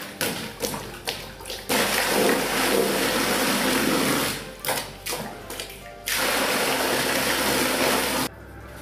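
Manual water pump with a 4-inch pipe plunged down into a barrel, giving loud sloshing, gushing water in two long surges separated by short knocks and thumps of the mechanism.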